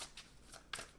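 A tarot card is pulled from a deck with quick, close papery swishes and a crisp flick at the end.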